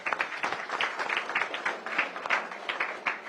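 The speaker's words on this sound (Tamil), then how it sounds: "தம்பிக்கு ஒரு பெரிய கைத்தட்டல்." A crowd at a public election-tour event in Ariyalur claps for a student, steady moderately loud applause of many hands with rhythmic bursts and no talk.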